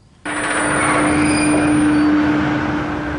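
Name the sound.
roller coaster train catapult launch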